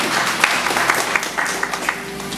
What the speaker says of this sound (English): Can we give the Lord a clap of praise?